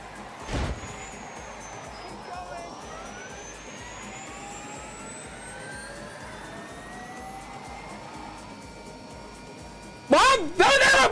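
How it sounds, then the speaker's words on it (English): A very fast electric car driving in The Grand Tour Game, a steady rising whine with road hum, briefly punctuated by loud bursts at the start and near the end. "Holy fuck, this car is fucking fast!"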